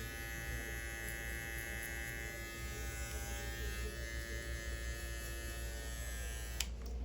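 An electric hair clipper buzzes steadily at close range during a haircut, a constant mechanical drone with a few faint clicks, alone without talk.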